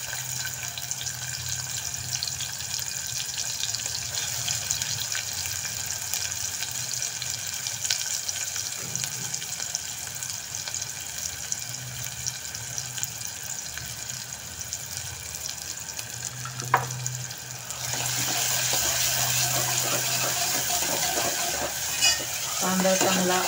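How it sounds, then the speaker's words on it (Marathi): Chopped onion frying in hot oil, a steady close sizzle with stirring and scraping in the pan, growing louder and busier partway through, with no talk. "तेल तापले की त्यात कांदा टाकायचा आहे।"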